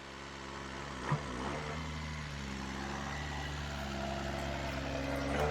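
A truck delivering a prefabricated cedar cabin drives forward, its engine a steady low idle-like drone that swells gradually louder with a brief bump early on, no talk over it.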